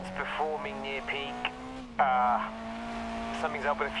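A race car engine in the Grid Legends racing game holds a sustained whine that dips and climbs through a shift, heard alongside brief spoken radio-style voice bits and a tire squeal burst.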